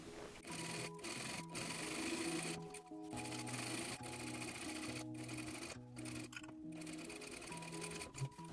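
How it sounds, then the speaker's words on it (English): A sewing machine runs double top stitching along a seam on denim shorts. The motor whirs steadily up close for several seconds, its pitch stepping up and down as the speed changes, with brief pauses and no speech. "And I'm also going to add the double top stitches to the seam."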